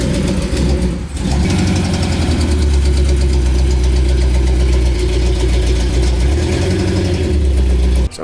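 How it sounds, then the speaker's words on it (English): A 2019 Chevrolet Camaro SS engine idles loudly and steadily, with a rapid ticking puff from a leaking exhaust header running through the rumble; no one speaks. "the truck had a little bit of a header leak."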